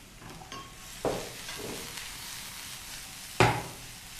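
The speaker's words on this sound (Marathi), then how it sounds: "आपण त्यात 2 मध्यम आकाराचे कांदे बारीक कापून घेतलेले आहेत, ते घालूया." Two finely chopped medium onions sizzle in hot oil in a pan for a paneer roll, with a low steady fry broken by a few sharp utensil knocks and scrapes as they are stirred.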